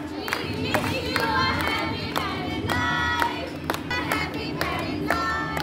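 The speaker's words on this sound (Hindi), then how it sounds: "ताली बजाने।" Guests at an Indian engagement ceremony clap in scattered bursts amid a busy crowd, with uneven hand claps of varying loudness over continuous chatter and voices.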